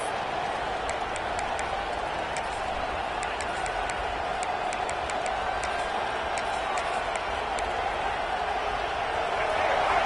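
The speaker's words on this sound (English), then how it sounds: "Listen to the crowd energy here in the early going." A large college football stadium crowd at an Ole Miss game roars steadily in a wide open space, a sustained wash of cheering with scattered whistles and shouts throughout.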